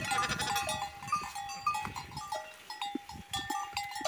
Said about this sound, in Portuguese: As ovelhas estão até bonitas.